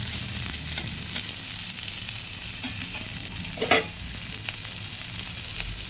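Chopped ginger and onion sizzle steadily in hot oil in a pan for a fish-head and taro curry, a close, continuous frying hiss with a few stirring scrapes and small pops.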